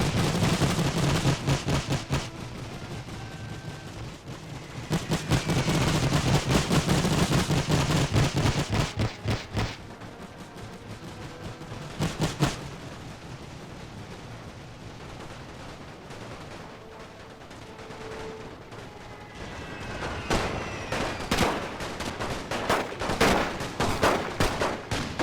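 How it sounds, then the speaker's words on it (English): Battle audio from The Great War strategy game, German Empire campaign, with Romanian troops charging machine guns: dense, continuous gunfire and heavy bursts rattle throughout, swelling and easing in loud waves with no talking. "They're charging the machine guns."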